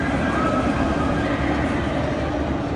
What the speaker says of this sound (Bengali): ওরা নিয়ে একটা ট্রেন যাচ্ছে